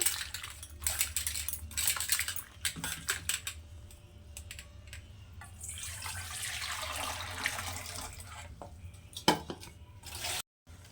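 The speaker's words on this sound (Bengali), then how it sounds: "বিনসগুলোই প্রথমে আমি ধুয়ে নেব জল দিয়ে তো খুব ভালো করে এটাকে ধুয়ে নেব বিনসগুলোকে" Green beans are washed with water, heard as irregular splashing, rustling and clattering handling sounds in bursts, with a stretch of steadier running water partway through.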